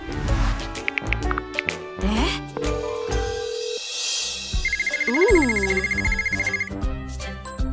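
A phone ringtone plays a repeated electronic melody while someone calls a friend, a steady beeping trill ringing clearly near the end amid background sounds.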